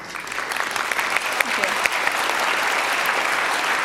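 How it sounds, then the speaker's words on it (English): An audience at a hacker congress talk on photography breaks into warm applause, a dense, even wash of clapping that holds steady for several seconds, close and fairly loud. "applause for it"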